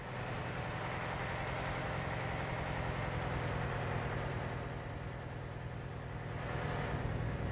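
A truck engine idles and runs in a truck simulator game, a continuous low droning rumble at moderate level with slight swells toward the end, heard alone without talk.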